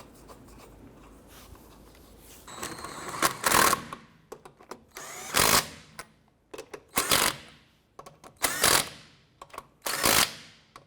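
Lug nuts on a 2006-2013 Chevrolet Impala rear wheel being snugged down with a ratcheting wrench, in several loud bursts of clicking spaced a second or two apart.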